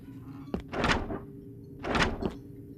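A locked door in the game Joyville is tried twice: a sharp click of the handle, then a heavy rattling thunk as it holds, repeated about a second later, close and clear.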